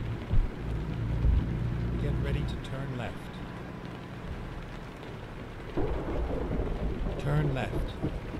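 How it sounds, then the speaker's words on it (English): Rainstorm with thunder in American Truck Simulator while driving through Arkansas: a steady wash of rain with deep rumbles, heard under a person talking. "Lightning and thunder, all kinds of good stuff going on here today"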